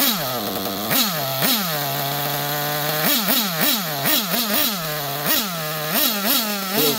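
A small nitro engine in a Losi LST XXL RC truck buzzes close by at idle, its high nasal drone repeatedly blipping up in pitch and settling back, with no voices.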